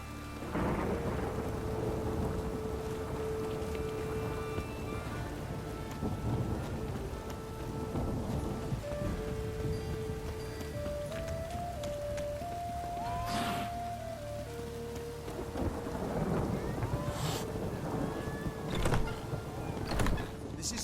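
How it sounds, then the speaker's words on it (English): A thunderstorm rolls through a Witcher 3: Wild Hunt game world, steady rain hissing under several deep rumbles and sharp cracks of thunder, with a faint musical tone drifting beneath. "A storm, damn it."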